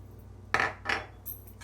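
A spoon clinks and scrapes in a bowl while sabudana uttapam batter with yogurt and rock salt is mixed, giving two short stirring strokes close by, with no talking.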